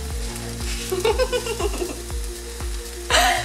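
Eggs fry in a pan for fried rice, a steady close sizzle running throughout, broken by regular soft knocks and a brief scraping stir, with a louder hiss flaring near the end.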